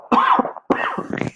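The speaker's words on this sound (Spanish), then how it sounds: "si se escucha la tos" Two harsh coughs from a man with a sore throat, close to the microphone, separated by a short pause, with no talk around them.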